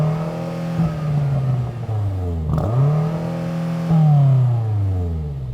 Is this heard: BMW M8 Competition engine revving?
yes